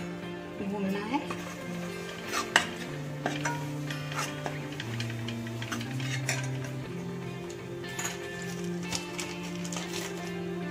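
Gram flour (besan) roasting and stirred in hot oil over low flame in a pan, with a spoon clinking and scraping against the metal at an unsteady pace beneath steady talking.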